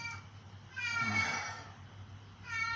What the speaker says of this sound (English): He must see a cat outside or something.